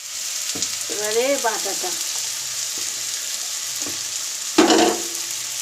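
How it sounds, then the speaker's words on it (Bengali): Salt and sugar being sautéed into a paste in a pan: a steady low sizzle and frying hiss runs throughout, with a brief louder burst of spatter near the end, under a woman's short speech. "নুন, চিনি দিয়ে ভালো করে কষতে নিচ্ছি।"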